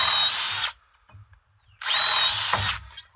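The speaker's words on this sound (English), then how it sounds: "Now I go with a second drill to create a clearance hole in the board." Power drill boring a clearance hole through a wooden board, two loud whirring bursts of about a second each separated by a short pause with light handling noises.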